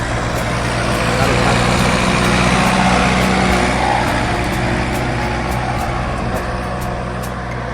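A small diesel tractor of about 40 to 47 horsepower works a cassava field forming ridges, its engine a continuous, steady rumble with someone talking over it throughout.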